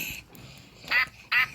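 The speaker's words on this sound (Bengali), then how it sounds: "এটা হাঁসের ডাক" Two short, loud duck quacks from a toy animal-sound phone, spaced about half a second apart over a faint background hum.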